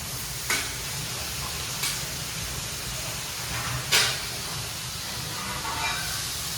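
Ginger and garlic fry in a large pot for chicken biryani, giving a steady loud hiss and sizzle. A few brief stirring scrapes break through and no one speaks.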